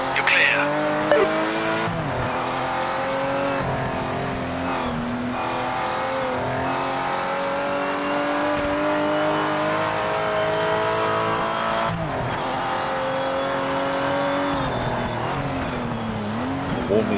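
A race car engine in the Project Motor Racing video game runs at sustained high revs, its tone climbing and dropping through gear shifts, with tyre scrub underneath, loud and close throughout.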